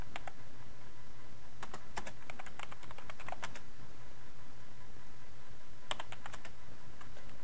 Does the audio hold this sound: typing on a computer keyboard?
yes